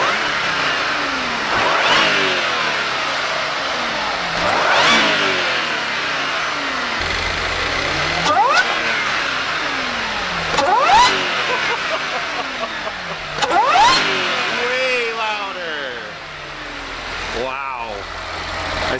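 Audi B8 S4 with an Integrated Engineering air intake installed runs on a dyno, its engine revving up and falling back in repeated surges with a mid-pitched whine, loud and close, with some voices underneath.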